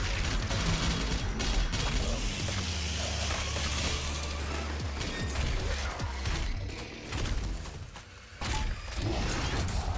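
Dense, relentless gunfire from Doom Eternal blends with mechanical clanks and crashes, a loud continuous barrage that breaks off briefly near the end before resuming.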